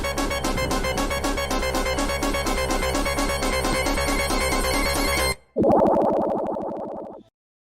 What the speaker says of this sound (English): It also gives Sonic the ability to not instantly drown when in the water.